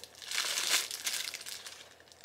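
Plastic wrapper of a large store-bought curry bread crinkling as it is handled and cut open with scissors, a short burst of close crackling that tapers off.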